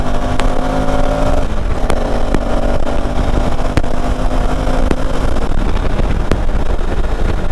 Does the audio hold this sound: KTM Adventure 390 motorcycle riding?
yes